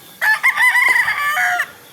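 A derby fighting rooster gives one loud, close crow that rises and holds for over a second before breaking off, heard alone with no talk.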